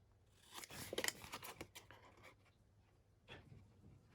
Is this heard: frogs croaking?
no